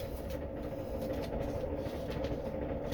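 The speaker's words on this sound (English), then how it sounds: "Enjoying the Trains, the sound of the trains." A recording of trains played from a 45 rpm vinyl record: a steady, dense rumble and rolling roar that holds at the same level throughout, with no voices.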